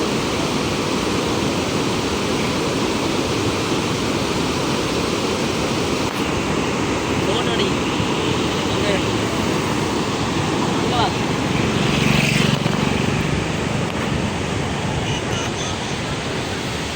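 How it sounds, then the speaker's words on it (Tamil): Loud, steady roar of water rushing through the opened spillway gates of Iranamadu reservoir, a dense continuous wash of noise with a slight swell near the end, no voices. "நமது குளத்தினுடைய அனைத்து வான் கதவுகளும் தற்பொழுது திறக்கப்பட்ட நிலையில் காணப்படுகின்றன"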